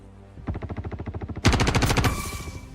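Rapid automatic gunfire in the video game Star Citizen, a steady burst of evenly spaced shots followed by a louder, harsher second weapon firing quickly, close and loud with no talking.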